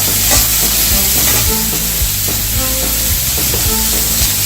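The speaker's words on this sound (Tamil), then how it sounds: "இது நல்லா வதங்குங்க" Mixed vegetables for vegetable fried rice sautéing in a hot pan, a loud steady sizzle with scraping stirs of the spatula breaking through at intervals.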